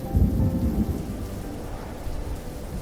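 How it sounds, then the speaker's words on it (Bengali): Heavy rain pours steadily during a storm, with low rumbling thunder rolling underneath, a dense continuous wash of sound with no voices. "ভীষণ বৃষ্টি এসেছে, সঙ্গে সঙ্গে সামান্য ঝড়।"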